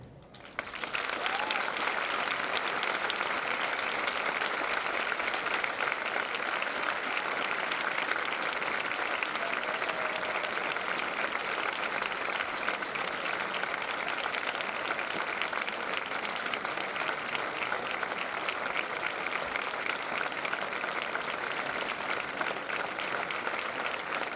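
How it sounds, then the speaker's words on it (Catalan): Warm, sustained applause from the audience at the Festa del Terrazel 2024 show, a dense and steady clatter of many hands that carries on evenly for over twenty seconds with no talk over it. "que fem per en Francesc un calorós aplaudiment"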